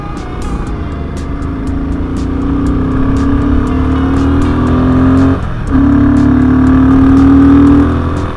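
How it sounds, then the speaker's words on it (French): A car approaches on a winding mountain road in the Himalayas, its engine note rising steadily and loud throughout, with a brief dip midway before the engine surges again, heard from a motorcycle's perspective. "c'est une voiture qui arrive au dernier moment"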